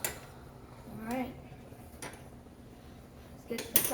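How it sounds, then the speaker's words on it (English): Metal cookware clanks and scrapes as a frying pan is pulled out, with a few clicks and knocks in a quiet kitchen. "let's get the frying pan."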